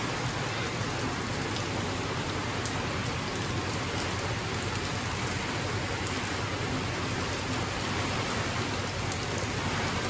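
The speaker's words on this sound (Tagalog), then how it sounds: "Malakas na ang ulan niya." Heavy rain pouring steadily on surfaces, a dense, unbroken hiss with scattered drip taps, constant and loud from start to finish with no talking.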